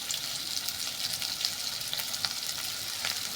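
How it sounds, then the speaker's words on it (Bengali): A soybean mixture with salt and turmeric frying in a pan gives a dense, even sizzle that holds steady throughout, with a few faint stirring scrapes and no talking. "এটা একটু নুন আর হলুদ দিয়ে একটু ভেজে নেবো।"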